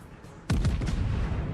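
The French battleship Normandie in World of Warships fires a broadside, one sudden heavy boom followed by a few quick echoing blasts and a rumbling tail, loud and close.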